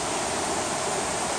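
A river flows near an abandoned paper mill, a steady, dense rush of water with no break, fairly loud and close.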